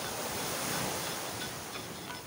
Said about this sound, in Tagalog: Ayan po ang dagat.